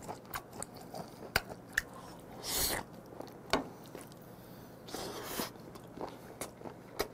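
Close, faint mukbang chewing of whole steamed cuttlefish eaten with its ink, with scattered soft bites, wet squishes and occasional sharper clicks, no talk.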